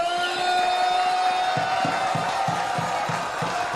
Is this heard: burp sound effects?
no